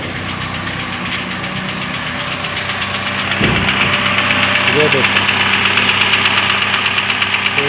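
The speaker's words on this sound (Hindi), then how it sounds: "इसका कनेक्टिंग रॉड वगैरह तो टूट चुका है, इसकी वजह से इसमें से आवाज़ बहुत बुरी आ रही है" A water-damaged car engine with a broken connecting rod runs with a harsh, steady knocking that grows louder midway, heard close up while someone talks over it.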